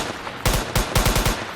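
A P90 gun firing in a modded shooter video game, sharp loud bursts of rapid shots in two short volleys, close and alone.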